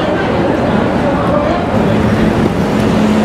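Road traffic in Times Square, New York City, at night during rush hour, a steady close rumble of cars and buses heard from an e-bike, continuous and fairly loud with someone talking over it.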